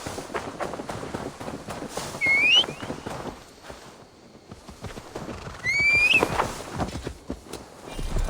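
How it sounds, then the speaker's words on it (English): A horse in Assassin's Creed Valhalla whinnies twice in sharp, rising neighs amid steady clip-clopping hooves and footsteps, close and fairly loud. "Now to deliver Magni his horse"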